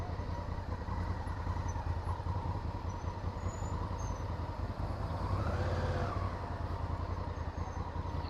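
Motorcycle engine on a touring trip in the Pyrenees, a steady close rumble idling and rolling along while parking on an avenue, with no break in the drone.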